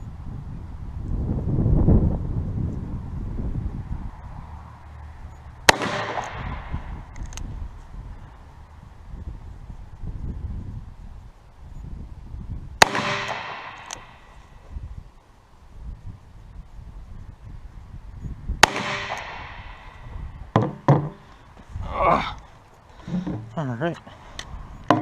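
A Taurus .44 Magnum revolver is fired outdoors while being sighted in, three loud, sharp shots spaced several seconds apart with short ringing tails, amid wind buffeting and someone talking between shots.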